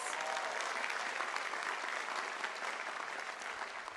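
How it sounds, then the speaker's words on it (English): A commencement audience at Pomona College's 2014 graduation gives a steady, full round of applause that holds at an even level for the whole stretch. "come on, a round of applause"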